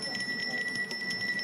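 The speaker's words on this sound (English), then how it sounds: "The bell goes for Sophie Scott, number 8 in the draw." A start bell at a show jumping event rings as a steady high-pitched tone, continuous and faint over outdoor arena background noise.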